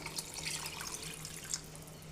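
Water poured into a pot of basmati rice for hotel-style chicken biryani, a steady soft splashing and trickling that stays fairly quiet and close throughout, with a faint low hum underneath.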